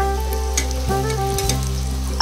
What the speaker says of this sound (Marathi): गरम तेलात सोडायचं आहे. अशा पद्धतीने तळले की छान फुगतात